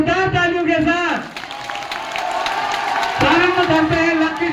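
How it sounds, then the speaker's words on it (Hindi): Before a bumper lucky draw, a crowd breaks into a broad, steady roar of applause, with someone speaking into a microphone before and after the burst. "तो एक बार जोरदार तालियों के साथ"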